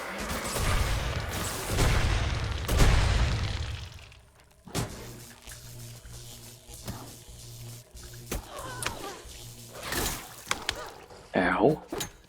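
Explosions in the zombie survival game Night of the Dead, with heavy booming blasts and shattering debris up front, then scattered sharper bangs and impacts as voices talk over the action.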